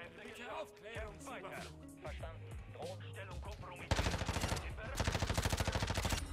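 Rapid MP5 submachine gun bursts in Call of Duty: Modern Warfare 2. They start after a few seconds of gameplay sounds and a voice, then come as loud, dense automatic fire with a steady rattling rhythm until the end.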